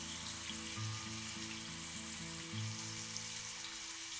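Chicken pieces frying in a pan until golden brown, ahead of being simmered in Sprite, with a steady close crackle and sizzle throughout and an electric hum underneath, no talking.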